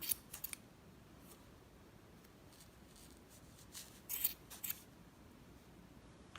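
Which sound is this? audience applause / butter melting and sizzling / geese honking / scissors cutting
scissors cutting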